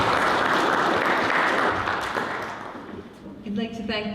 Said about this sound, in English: So why don't we give them a nice round of applause?